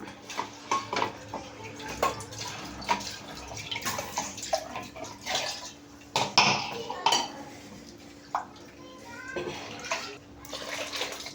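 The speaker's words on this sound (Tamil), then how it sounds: "மிக்ஸி ஜாரை கழுவி ஊற்றிக்கலாம்." Water splashes and sloshes in a mixer-grinder jar being rinsed while making fish curry, amid clinking of dishes and utensils, with short bursts of running water and a voice talking intermittently.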